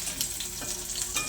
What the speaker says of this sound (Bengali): আমি এটাকে তেলের মধ্যে ভেজে নেব